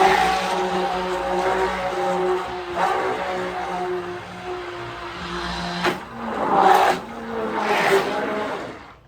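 A stick blender motor whirs steadily while mixing goat milk soap batter, a close mechanical hum with a tonal whine that rises and falls as it is moved, with a few louder surging bursts near the end.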